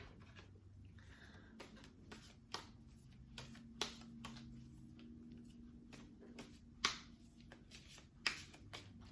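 A tarot deck is shuffled and cards drawn and laid down, soft quiet riffles and crisp card snaps scattered over a low steady room hum, with no voices.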